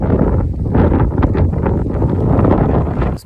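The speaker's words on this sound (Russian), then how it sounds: "Вы видите ветер, да? И вот такой был всю ночь" Strong wind buffeting the microphone while cycling through England on a stormy day, a steady loud roar and rumble throughout with gusting swells, broken only by a brief dip at the very end.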